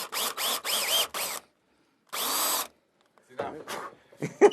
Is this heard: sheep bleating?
no